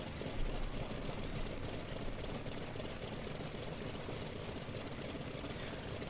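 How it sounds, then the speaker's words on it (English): A simulated F4U-1A Corsair piston engine idles at about 1000 RPM while warming up before taxi in Flight Simulator X, a steady, low droning rumble held at even loudness with no talking. "And we're going to let the engine warm up a little bit."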